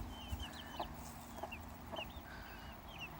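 Chickens clucking in short, scattered calls, with high chirps from young birds over a steady low background hum.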